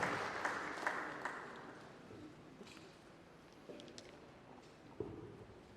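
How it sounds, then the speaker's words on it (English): Applause from an audience at a ceremony rustles steadily at a distance, fairly faint, thinning out over a few seconds with scattered claps and clatter. "Can we give him a resounding applause as he steps forward?"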